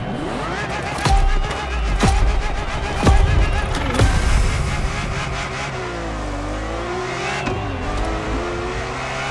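Ferrari F50 V12 engine driven in the racing video game The Crew Motorfest, revving loudly and repeatedly with sharp throttle blips and gear-shift drops, then settling into a steady sustained roar with falling and rising pitch sweeps.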